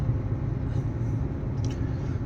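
Truck driving out of a customs checkpoint in the evening, a steady low engine rumble from inside the cab, constant and moderately loud with a couple of faint higher rattles.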